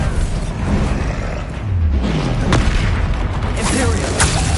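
Booming explosion from the Bombarda spell in Hogwarts Legacy, a heavy low rumble with bursts of debris layered over dense game combat noise and a voice calling out.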